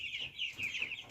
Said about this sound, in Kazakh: Кеше бір поток үндіктің балапандары шықты.